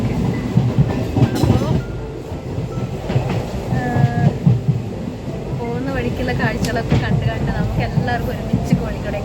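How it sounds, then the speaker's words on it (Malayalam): A fast-moving train rumbles steadily with rhythmic clickety-clack of wheels on rails, loud and close, with people talking over the noise. "ഭയങ്കര ഫാസ്റ്റിലാണ് ട്രെയിൻ പോകുന്നത്"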